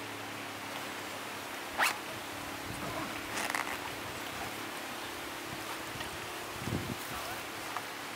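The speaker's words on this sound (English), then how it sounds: "Pull up the zipper." A backpack zipper pulled shut on its outermost compartment after a portable radio repeater is stowed inside, giving a short zipping rasp and a couple of fainter follow-ups over steady outdoor background noise.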